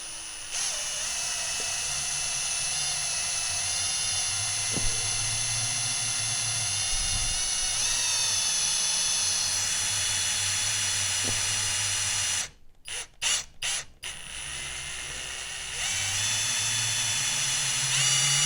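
A drill spins the oil pump of a Honda CB750 motorcycle engine to prime it, a steady, loud whine running throughout that briefly drops out and stutters in a few short bursts before resuming.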